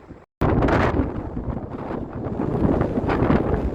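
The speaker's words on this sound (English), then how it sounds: "This wind is annoying" Gusty wind buffets the microphone on Blackpool seafront, a loud, rough roar that cuts out for a moment and then surges back and keeps blustering without a break.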